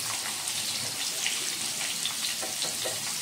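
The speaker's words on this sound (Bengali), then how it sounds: "এদিকে আলুটা ভাজা হোক, এদিকে আলুটা ভাজা হয়ে গেছে" Potatoes frying in oil in a pan for a Bengali hilsa fish curry, giving a steady, close crackling sizzle that runs unbroken with no talking.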